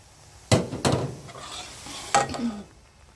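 Pounded soaked sticky rice goes into a pot of boiling Isan-style mushroom curry, giving a few close splashing and stirring bursts with quieter bubbling between them, and no voices.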